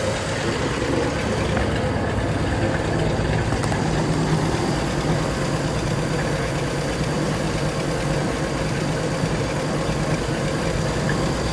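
A 1957 Cadillac Eldorado Brougham engine idles steadily with a low, rumbling exhaust note, continuous and fairly loud throughout, with no talking.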